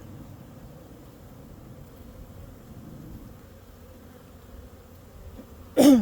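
Honeybees hum in a low, steady drone throughout, heard up close while a hive is being worked to head off swarming, before a sudden louder rustle or bump at the very end.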